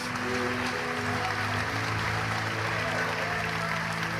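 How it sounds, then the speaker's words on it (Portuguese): A church congregation applauds loudly during a sermon, a sustained wash of clapping with a held tone underneath, continuous and fairly close. "Dê um aplauso bem forte"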